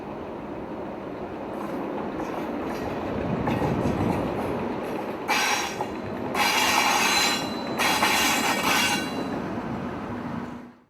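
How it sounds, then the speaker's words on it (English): Class 90 electric locomotive 90017 pulls away from Euston station on a rush-hour loco-hauled service to Northampton, a steady rolling rumble with bright wheel squeal rising in several loud bursts as it moves off. "90017 departs Euston with one of the two loco haul diagrams operated by Silverlink to and from Northampton during the rush hour."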